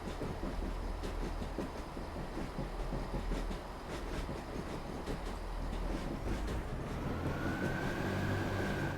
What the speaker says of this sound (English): Track audio sounds so good, it's almost musical.